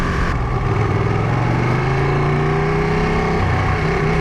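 A 2018 Ducati 959 Panigale on a road test, its engine revving loud and close with rising and falling pitch, no voices.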